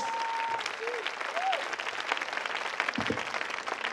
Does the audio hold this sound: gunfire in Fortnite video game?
no